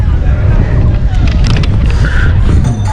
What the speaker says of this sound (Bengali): এটা কিন্তু নদীর পাড় এখানে প্রচুর হাওয়া দেখুন চারদিকে এটা হুগলি নদী